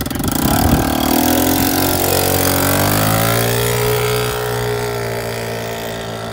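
A turbocharged moped engine running hard and loud up close, a steady rough droning roar whose pitch climbs and sweeps as it revs, with no voices over it.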